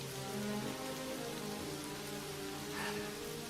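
Steady rain pours across a video game scene, a dense, even hiss of drops on surfaces with no breaks and no voices.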